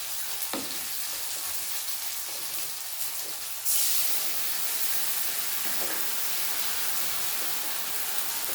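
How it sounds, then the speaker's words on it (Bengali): Onions fry with a gentle, steady sizzle until ground poppy seed paste drops into the pan, and the hiss then swells louder and brighter, continuing evenly without speech. "বাটা পোস্তটা দিয়ে দেবো"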